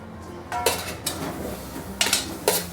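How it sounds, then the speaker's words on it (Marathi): Chopped onion tipped into a hot, dry kadai for roasting without oil, giving a few sharp metallic clanks and scrapes in separate bursts, close and fairly loud, with no talking. "कढई छान तापली, आता आपण हा कांदा टाकून घेऊ"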